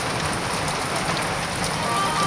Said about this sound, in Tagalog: first time po umulan ng ganyang kalakas at napakabanas po talaga